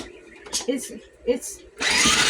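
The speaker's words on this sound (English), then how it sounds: "So I'm going to pause you guys while I grind up, because this is noisy." A small food processor grinds chicken salad ingredients, starting as a loud, steady whirring roar near the end after a stretch of quiet talking.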